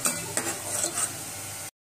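Dal water stirred in a pot for amti gives a few close scraping and sloshing strokes over a light sizzle, then cuts off abruptly.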